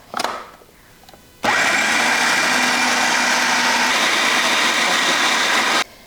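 A kitchen blender whirs steadily at full speed, loud and continuous for several seconds, pureeing beans with garlic powder, pepper, salt and lime juice, then cuts off abruptly; a brief clatter comes just before it starts.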